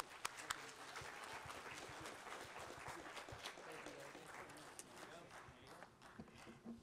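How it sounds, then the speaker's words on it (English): Audience applause at a city council special meeting, a dense, steady patter of clapping that holds at an even level for the whole stretch, with a faint murmur of voices underneath. "Another round of applause, everyone."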